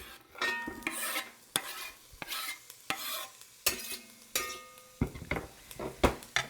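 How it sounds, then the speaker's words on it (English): Chopped onion sizzles in oil in a pot while a spoon scrapes and stirs it, giving repeated sharp scraping strokes over a crackling fry, close and fairly loud. "We're going to go ahead and throw our onion right in the pot."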